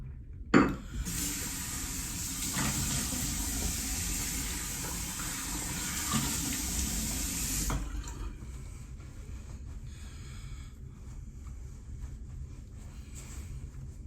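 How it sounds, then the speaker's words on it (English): A running tap pours steadily for several seconds while someone rinses off after a shave with a 1975 Gillette Adjustable razor, then cuts off, leaving faint room noise and small splashes. "Let me get rinsed off."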